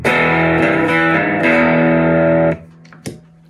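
A Fender SRV electric guitar played through distortion with a thick, humbucker-like rear pickup tone: loud sustained chords that ring, then cut off, followed by a short pick scrape and string noise.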